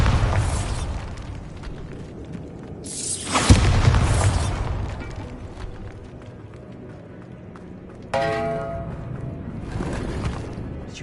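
Spell blasts in the video game Hogwarts Legacy: a sudden booming burst with crackling debris stands out over a steady rumbling game backdrop, and a second sharp, ringing impact follows later, with no talk.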